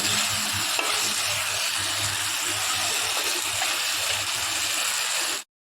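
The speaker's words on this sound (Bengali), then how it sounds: "এবার আদা রসুন হলুদ জিরা দিয়ে পরে একটু এতে ভেজে নেব" Ginger, garlic, turmeric and cumin fry with onion and chili in a pan, giving a loud, continuous sizzling hiss that stays even throughout and then cuts off abruptly.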